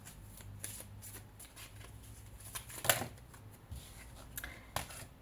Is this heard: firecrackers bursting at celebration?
no